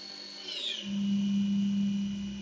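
A HAAS TM1 milling machine spindle spinning up toward 6,000 RPM: a high whine rises and bends, then settles into a steady, strong low hum that carries on alone.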